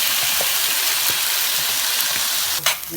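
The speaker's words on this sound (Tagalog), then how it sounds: "Next step is to saute the mixed veggies in butter." Mixed vegetables sizzle steadily in melted butter in a hot pan, a continuous close frying hiss with a brief clatter of stirring near the end.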